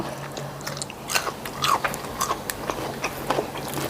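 Someone eats rice mixed with fermented fish in a spicy home-style Thai meal, giving soft chewing and biting sounds that are close and fairly quiet, coming in irregular bursts over a low steady hum.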